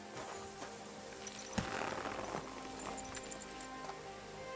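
A horse's hooves clip-clop steadily in Kingdom Come Deliverance 2 as the rider heads toward the mill, a soft, even rhythm under quiet ambient game sound.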